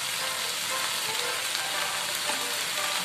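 Spinach with oyster sauce stir-fries in a hot pan with a constant loud sizzle and light crackle, close up and with no talking.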